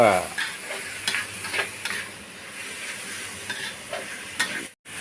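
Pork stir-fried with garlic and black pepper in a wok: a close, steady sizzle broken by repeated scraping spatula strokes, with no one talking, ending in a brief sharp cut.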